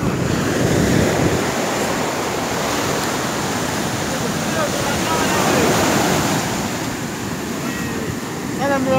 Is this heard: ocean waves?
yes